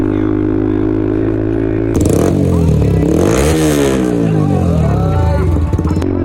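A Yamaha R15 V3 motorcycle fitted with an aftermarket exhaust idles with a steady low rumble, then revs hard in several rising and falling surges, loud and close, with faint voices around it.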